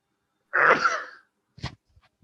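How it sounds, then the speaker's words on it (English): One loud, close human sneeze, a sharp burst with a breathy tail, followed by a short sniff or throat noise and then quiet, indoors during a seniors' tai chi exercise class. "I'm going to sneeze."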